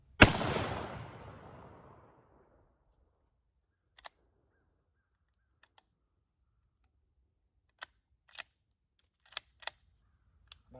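A single .243 caliber rifle shot fired outdoors, a loud sharp crack with a ringing tail that fades over about two seconds, then near silence broken only by a few faint clicks of the action.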